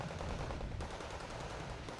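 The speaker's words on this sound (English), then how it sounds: "having a long-range machine gun fight" Sustained long-range machine gun exchange in the Wargame Red Dragon strategy game, dense rattling bursts of automatic fire overlapping continuously at a steady, loud level with no voices.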